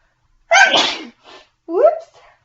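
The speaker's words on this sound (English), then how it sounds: "Oh, I'm going to sneeze." A single person's sneeze, close and loud, with a sharp burst followed by a brief trailing breath and a short vocal sound afterward.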